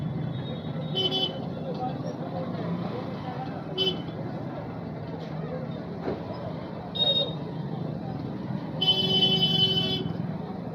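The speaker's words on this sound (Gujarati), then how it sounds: "ટ્રાફિક તો છે ઘણું બધું." Busy road traffic near a crowded market bazaar, engines droning steadily while several short car horn toots sound at intervals, under scattered talk.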